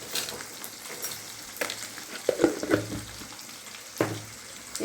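Onions sauté in a pan with salt for pirandai thuvaiyal. A soft, steady sizzle runs throughout, broken by a few louder stirring scrapes.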